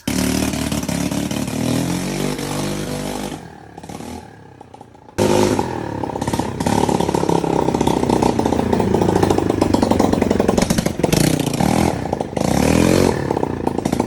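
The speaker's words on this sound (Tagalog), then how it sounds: "Medyo maingay lang kasi wala pang tambutso" A restored motorcycle engine roars with no exhaust pipe fitted, a harsh, loud, raspy idle and rev close to the listener, dipping briefly before surging back into a steady, buzzing run.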